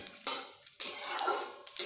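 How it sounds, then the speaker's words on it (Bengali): A spoon scrapes and clinks against a frying pan while fennel seeds are stirred, coming in a few short, close bursts with brief pauses between them and no talking. "মৌরিগুলো দিয়ে এইভাবে কয়েক সেকেন্ড নেড়ে নিচ্ছি"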